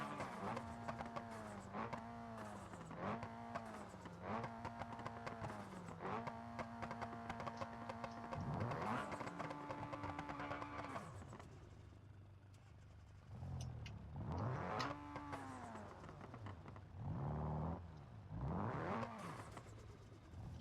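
Cars in the BeamNG.drive video game rev their engines one after another in a rev competition, with loud repeated rising and falling engine whines, rhythmic blips, then longer sustained revs and a brief quieter gap before more bursts.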